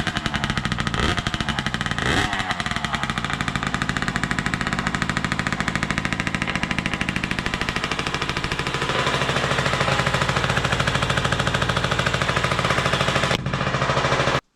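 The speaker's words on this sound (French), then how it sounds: "la moto elle est démarrée. Au premier coup de kick, elle a pété direct" A 2016 Beta Track motorcycle with no exhaust gasket runs continuously, a harsh, rapid machine-gun-like rattle from the engine loud and close for the whole stretch, with a few revs near the start.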